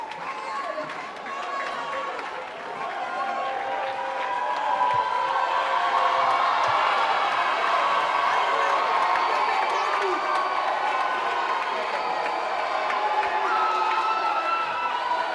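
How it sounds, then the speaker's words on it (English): A school production audience cheers and claps for the set and prop crew, a large crowd swelling into loud, sustained shouting and whooping that carries on for several seconds. "Shall we clap for our never failing set and prop members?"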